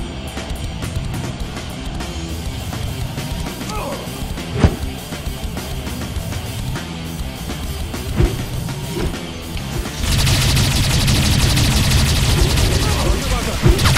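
Rapid game gunfire from the link shot weapon in the sci-fi shooter Games of Glory, crackling in dense bursts that thicken into a heavy sustained barrage near the end, with voices talking over it.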